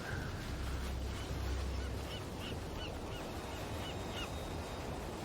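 Birds honking along a debris-strewn beach in the video game Path of Exile, a string of faint, repeated calls over a steady wash of surf and ambient noise.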